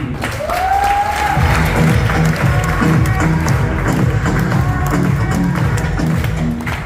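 An audience at a motivational seminar claps loudly and steadily, mixed with a tonal swoop and thumping, music-like low tones running under the applause throughout.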